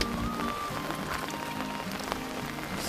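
Rain falls steadily on a fishing pond after an all-night downpour, a dense, even hiss of drops on the water holding at a constant level throughout, with no talk and no thunder.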